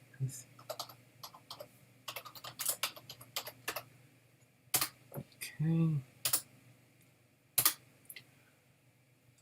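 Computer keyboard typing in quick irregular bursts of clicks, fairly close, with pauses between runs and a brief spoken word partway through.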